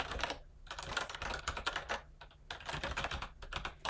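Rapid typing on a computer keyboard while writing smart contract code, a steady run of close, crisp key clicks with brief pauses between bursts.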